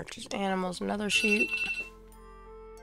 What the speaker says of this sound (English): That's my alarm telling me I've got to leave in a little bit.